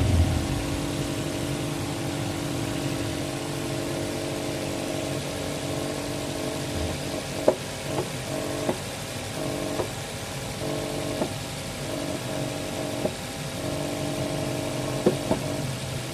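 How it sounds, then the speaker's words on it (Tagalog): Suzuki Ertiga engine idling with a vibration fault, a steady mid-pitched hum heard up close with faint periodic ticks and knocks recurring over the running engine. "nang in-start ko, meron ngang vibration dito sa makina."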